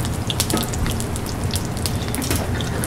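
Stuffed zucchini blossoms fry in hot oil in a pan, giving a steady, dense crackling sizzle that stays loud and even throughout, with no voices.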